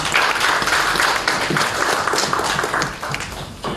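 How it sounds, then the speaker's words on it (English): A crowd applauding steadily, dense clapping that stays loud before easing slightly at the end. "Let's give them another round of applause"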